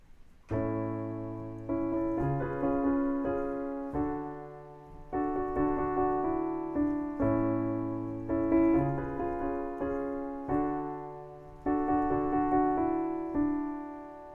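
A piano plays the vocal melody line of a song over low sustained notes, each phrase rising and decaying in a steady, repeating pattern.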